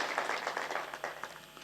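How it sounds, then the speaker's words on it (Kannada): An audience at a gathering honouring a religious teacher bursts into brief, lively clapping, many hands together in a short dense burst that fades quickly. "ಅವ್ರಿಗೆ ಒಂದ್ಸರಿ ತಾವೆಲ್ಲರೂ ಪ್ರೀತಿಯ ಜೋರಾದ ಚಪ್ಪಾಳೆಯನ್ನ ನೀಡಬೇಕು"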